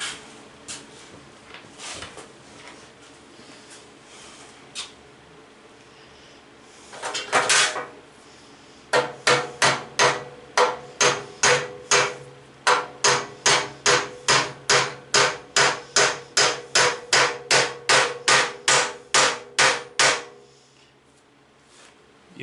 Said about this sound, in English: you seen me starting to hammer that wedge in